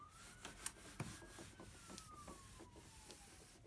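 Writing being rubbed off a classroom board, soft repeated scrubbing strokes in an uneven rhythm, quiet and close, with a faint rising and falling whine in the background and no talk.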